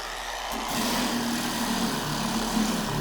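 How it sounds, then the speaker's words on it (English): A power sander with 100 grit sandpaper grinds rust off the body of a Mustang, giving a steady, close, rough whirring drone that holds throughout with no talking. "100 grit sandpaper, just a quick one to get the worst of this off."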